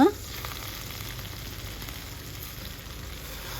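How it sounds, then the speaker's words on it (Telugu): Green chilies fry in a pan for a village-style gongura chicken curry, giving a steady, even sizzle that crackles softly and continuously throughout. "పచ్చిమిరపలు అవి కూడా వేసేసుకొని వేపుకుందాం"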